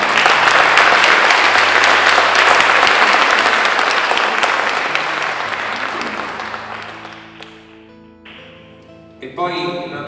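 An audience applauds at the presentation of a stage play, with dense, loud, sustained clapping that slowly thins and fades to a few scattered claps near the end.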